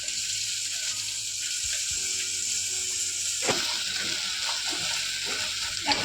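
Chopped tomato sizzles in hot oil with fried ginger and garlic, a steady close hiss running throughout with occasional soft stirring clicks and scrapes.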